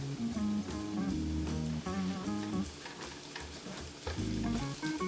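Garlic and ginger sauté in oil in a pan, a steady close sizzle broken by several bursts of stirring and clattering, with a brief pause before the frying resumes.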